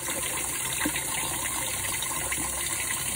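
Liquid fertilizer is poured into about 18 liters of water for feeding orchids, giving a soft, continuous trickle and gush that stays fairly quiet and steady throughout, with no talking.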